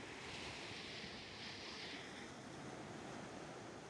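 Sea waves on the Algerian coast make a steady, broad wash of surf with some wind noise, continuous and fairly faint.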